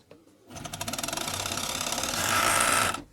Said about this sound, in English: We're going to overlock the long edge, one edge of the fabric.